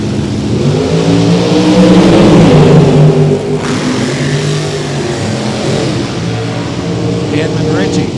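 A drag racing dragster, black and red, accelerates hard at a drag strip, its loud engine rising in pitch and roaring close by, then holding a steady high drone as it pulls away, with an announcer talking over it.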